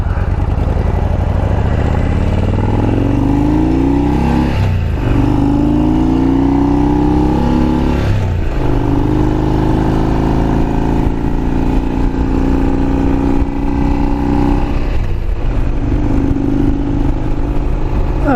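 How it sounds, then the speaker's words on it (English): Harley-Davidson Road King motorcycle engine running steadily and loud up close, with throttle rises and gear-shift dips as it pulls out into traffic, no talk over it. "I'm waiting for an opening to get into traffic a little bit, and we'll be okay."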